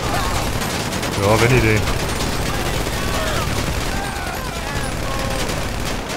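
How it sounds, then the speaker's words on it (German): Rapid gunfire rattles through GTA Online, dense bursts of shots close and loud with scattered bangs, while someone speaks German over the shooting. "Dann fange ich auch mal an mit ein bisschen mit Schießen."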